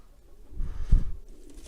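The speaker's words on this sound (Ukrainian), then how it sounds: "А це англійський дутиш." A single short, low pigeon coo, soft and close, rising briefly then trailing off.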